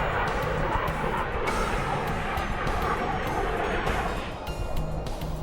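Snowbirds jet aircraft take off from a runway at an airshow, a loud, sustained engine roar that holds steady and eases slightly toward the end, with no talk.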